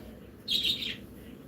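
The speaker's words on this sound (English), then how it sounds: "A bird just whistled at me." A single bird whistles and chirps outdoors, a brief bright call over a low steady background hum, fairly faint and slightly distant.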